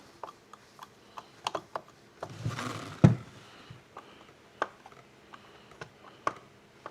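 A scrench tool loosens the bar nuts on a Ryobi 40V HP chainsaw to slacken the chain, giving sparse, close metallic ticks and clicks, with one heavier clunk midway. No one speaks.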